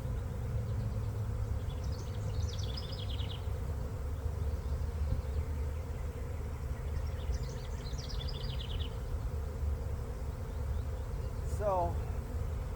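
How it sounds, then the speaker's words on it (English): An angry swarm of bees pours from an aggressive hive in a steady, dense buzzing hum. Someone talks over it, and a bird calls briefly near the end. "I've never seen a swarm attack before, but that's what these bees are doing"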